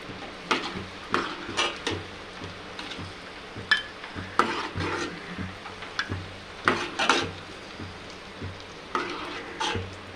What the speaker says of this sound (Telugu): తర్వాత కొబ్బరి ముక్కలు కూడా వేసుకొని వేపేసుకోవాలండి